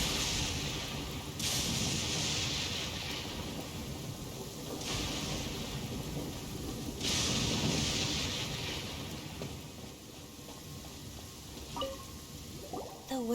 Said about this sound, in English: Oh goody, another thunderstorm.